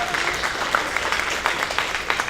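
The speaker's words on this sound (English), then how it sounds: "clap your hands" An audience claps for poetry at an open mic night celebrating National Poetry Month, producing a short burst of moderately loud, steady applause from a small crowd that lasts throughout without talk.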